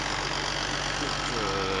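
A Massey Ferguson 6465 tractor with a four-furrow plough idles close by, giving a steady, loud diesel rumble with no change across the short stretch.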